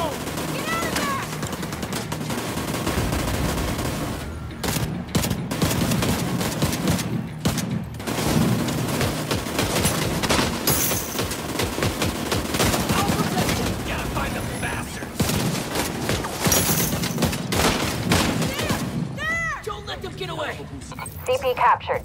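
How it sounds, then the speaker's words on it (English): Sustained gunfire and explosive booms in the game The Division 2, dense and loud throughout, with voices talking over the shooting. "That gun's gonna be trouble!"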